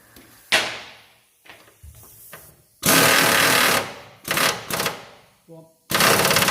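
An impact wrench works on the suspension bushes of a Range Rover Classic under restoration, firing in several loud, rattling bursts of about a second each, with quieter clanks and gaps between them.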